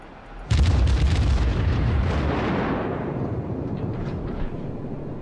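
Heavy naval gunfire from the cruiser USS New Orleans in World of Warships: a sudden loud broadband boom, then a long rumbling roll that fades slowly with no talk.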